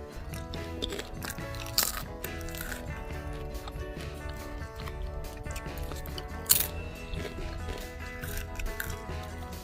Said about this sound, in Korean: 아이 쑥쑥 김 스낵 ASMR 한번 들려드릴게요